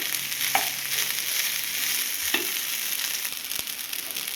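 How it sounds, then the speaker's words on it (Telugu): Rice with masala is stirred in a hot pan for potato fried rice, a loud continuous sizzle with a few soft scrapes and knocks of the spoon against the pan, close up and without speech. "ఇలా వేసుకున్న రైస్ని మొత్తం కలిపేసుకుందాం చక్కగా. రైస్కి మసాలా మొత్తం పట్టేలాగా"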